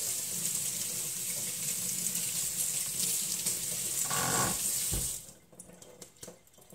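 Water runs steadily from a kitchen tap through a sieve as tomato seeds are rinsed, a loud continuous splashing hiss that cuts off abruptly near the end, leaving faint drips and handling clatter.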